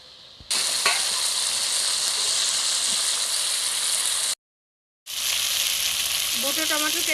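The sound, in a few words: sizzling spices sautéed with a little water for koi fish curry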